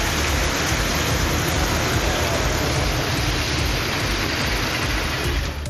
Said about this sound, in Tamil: திருவாரூர் மாவட்டத்திலும் 1 மணி நேரமாக கனமழை பெய்தது